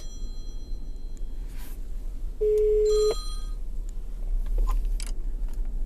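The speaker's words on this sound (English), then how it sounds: "Okay, so I'm calling my other phone." An incoming call sets off a single short electronic ring tone on a phone connected through a Carlinkit 4.0 CarPlay/Android Auto adapter, clear and close against a quiet background hum.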